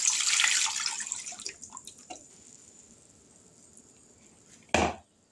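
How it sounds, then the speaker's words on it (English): Juice poured into an electric jelly maker gives a splashing, running-liquid rush at the start that tapers into a faint trickle, followed by a single short thud near the end. "We're going to pour this juice in here."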